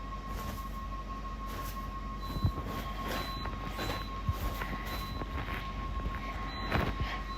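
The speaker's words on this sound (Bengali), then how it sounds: "এখন আমরা ট্রেন চড়তাছি" A moving train rumbles and rattles steadily from inside a carriage, a constant broad roar with a few sharper clunks and knocks over wind-like rushing noise.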